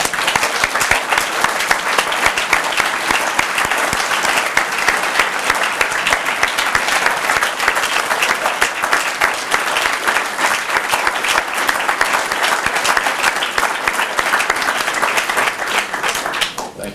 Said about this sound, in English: So I want to just a round of applause for Tommy Baker.